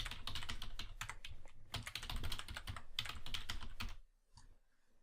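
Rapid, close keystrokes on a computer keyboard as a username and password are entered, a steady clatter of keys that stops abruptly near the end.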